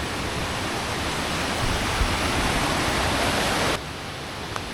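River rushing through a steep rock canyon, a loud, steady broadband roar of fast water close by, continuous and without voices, dropping slightly in level near the end.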